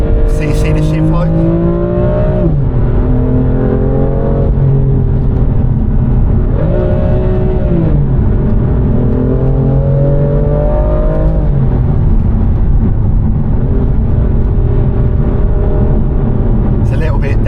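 BMW F82 M4 Competition engine revving while driving on a damp road, loud and close. The pitch climbs through the rev range, then drops at each shift, repeating several times. A voice talks over it.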